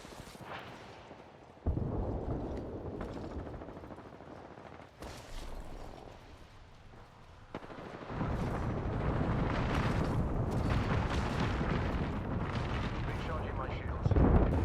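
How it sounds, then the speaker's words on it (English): Small bullets firing in a shooter video game, heard as a dense, sustained roar of rapid gunfire that swells louder in the second half, with a voice talking at times. "Small bullet firing."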